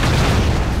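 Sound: grenade explosion in video game Broforce

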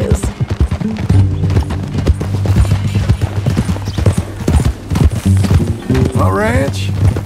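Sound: horse hooves clip-clopping, from video game Red Dead Redemption 2

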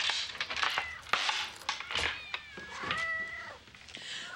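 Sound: cat meowing

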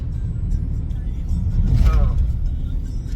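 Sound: car driving in traffic over the Godavari

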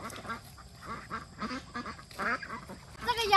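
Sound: domestic ducks quacking

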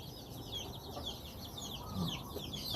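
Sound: chickens on a fighting-cock breeding farm

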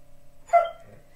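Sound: dog barking loudly

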